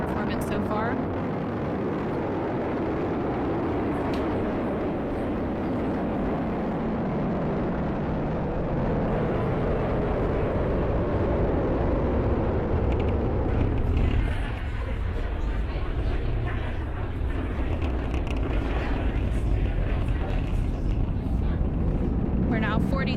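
Falcon 9 rocket carrying Crew-10 in flight, a loud sustained low rumbling roar with wind buffeting at the microphone, continuous throughout and thinning somewhat in the second half.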